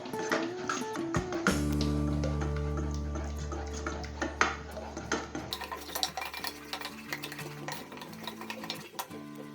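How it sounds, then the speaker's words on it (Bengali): Pasta sauce is stirred in a pan as it thickens, with repeated utensil scrapes and light clinks against the pan, fairly close, rhythmic and irregular, over a low steady hum that drops away partway through. "খুব ভালোভাবে নাড়তে হবে যেন কোনো দলা না লেগে যায়।"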